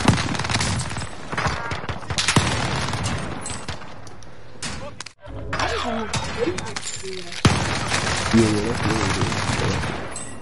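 Rapid bursts of machine gun fire in a video game crackle loudly and almost continuously, with a brief gap midway before the shooting resumes, while voices talk over it.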